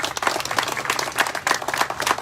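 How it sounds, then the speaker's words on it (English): Crowd applause at an outdoor microtransit ribbon cutting, a steady, dense patter of many hands clapping at moderate volume throughout. "Yeah, let's give them a round of applause."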